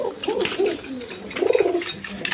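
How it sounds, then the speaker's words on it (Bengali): A pair of gorra pigeons, kept with two chicks, coo in soft low throaty phrases, two bursts close by over faint background noise. "এখানে এক পেয়ার গররা কবুতর আছে দুইটা বেবি সহ"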